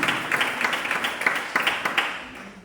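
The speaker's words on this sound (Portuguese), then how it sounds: "Você pode aplaudir a ele?" A church congregation at a Sunday morning missions service applauds, with many hands clapping steadily at a moderate distance and a few sharper claps standing out.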